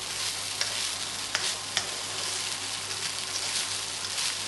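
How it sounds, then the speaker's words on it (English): Rice fries in a hot pan, sizzling continuously while it is stirred, with a few sharp scrapes and taps of the utensil against the pan rising above the steady crackle. "Here we go, get the sizzling."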